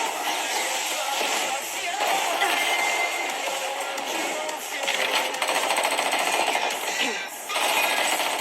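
Sustained rapid gunfire in an anime fight scene between Bakugo and Reze, a loud, dense rattle of shots that runs almost without a break, with brief dips in intensity.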